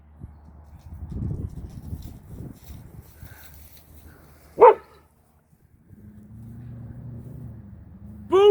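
Old dog Cody gives one sharp bark midway, close by, with a second bark starting right at the end; between them come rustling movement and a low steady engine-like hum.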